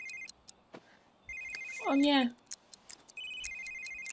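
A telephone rings in short electronic bursts, three times, with a voice speaking briefly between rings.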